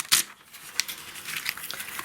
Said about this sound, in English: or in this case tear it into 2